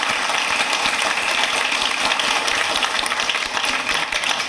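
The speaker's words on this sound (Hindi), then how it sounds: "एक बार जोरदार तालियां उनके लिए बजाएं" Crowd applause for a poet at a Hindi Kavi Yudh poetry gathering during Durga Puja, a dense, continuous patter of many hands clapping at steady loudness throughout.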